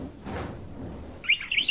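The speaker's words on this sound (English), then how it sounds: "The male canary sings." A male canary sings in a short, bright burst of chirping that enters near the end, fairly close, over a quiet background.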